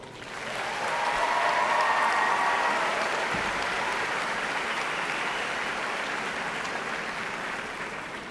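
Audience applause at a university spring commencement ceremony, a broad sustained roar of many hands that swells within the first second and holds steady to the end.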